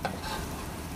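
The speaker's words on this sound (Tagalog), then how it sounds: "So ngayon ilalagay na natin ang onions." Onions drop into hot oil in a frying pan and sizzle steadily, stirred while cooking Filipino ginisang monggo; a soft, close hiss with a brief clatter at the start, fairly quiet and with no talking.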